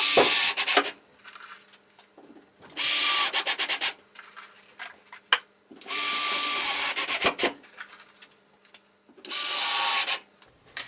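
A drill drives screws through drywall into ceiling joists, sounding as four loud, whirring bursts of a few seconds each separated by short pauses, close by with no talking.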